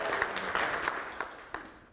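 Audience at a business presentation clapping their hands on request; a brief burst of scattered applause with a few distinct sharp claps, fading out toward the end, no speech.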